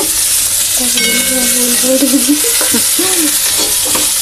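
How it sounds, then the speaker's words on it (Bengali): Onions stirred and fried in a hot pan give a steady sizzling hiss, with scraping stir strokes repeating throughout and no talk. "পেঁয়াজ দিয়ে দিচ্ছি, পেঁয়াজটা ভালো করে নেড়ে নিচ্ছি"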